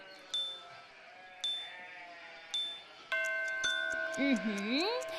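Sheep bleat several times, near and clear, with a few drawn-out cries spaced apart over a quiet farm backdrop.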